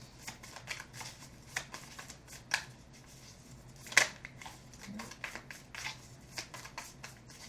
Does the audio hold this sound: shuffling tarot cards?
yes